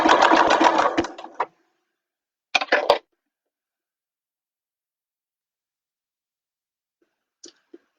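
A sewing machine stitches elastic and mesh onto a bag in a short, close burst, then stops. A second brief run follows before the room goes quiet apart from a couple of faint clicks.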